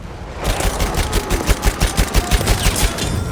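A Lewis gun fires full auto at a steady 480 rounds per minute in Battlefield 1, a loud sustained stream of about fifteen evenly spaced sharp reports close up, with no voices.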